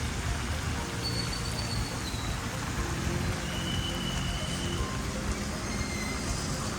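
Steady rain falls in McLeod Ganj, a dense, even hiss of drops on surfaces that continues unbroken throughout, fairly close with no voices.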